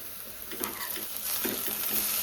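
Dried shrimp fry with onions and green chilies in oil for a gongura curry, giving a soft, steady sizzle with light stirring scrapes, near and unbroken by talk.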